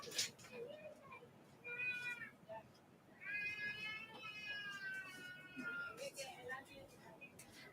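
A pet cat meows several times indoors, a short call followed by a longer drawn-out meow, fairly faint against a quiet room background.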